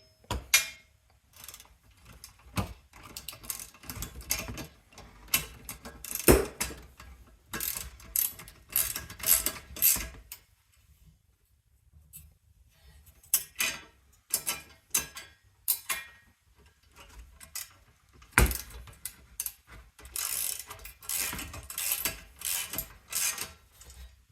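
Tightening the mount of a snowmobile ice scratcher for a Ski-Doo Gen 4/Gen 5, with bursts of ratcheting clicks in uneven runs, a quiet pause midway, then more clicking, close and fairly loud with no talk.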